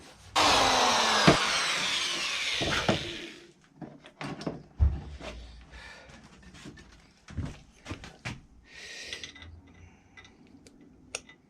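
A power drill whirs loudly into the wood of a handmade wooden treasure chest, its pitch dropping as it bites, followed by scattered knocks, clicks and handling noises of hardware and tools on the workpiece.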